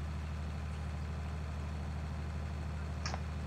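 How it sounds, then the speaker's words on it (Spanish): Tractor engine in the Farming Simulator video game, a steady low drone running continuously at moderate level, with a brief faint higher noise near the end. "estoy aplastando los cultivos con el tractor"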